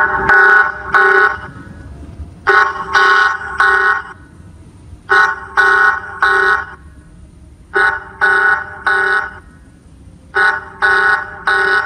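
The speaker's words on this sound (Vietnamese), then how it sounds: "Nó cái này là nó hơn mấy chỗ kia ở chỗ là có cái báo động này." A wifi anti-theft security camera's alarm siren sounds loudly and alone, in repeated bursts of three or four harsh electronic honks separated by short pauses.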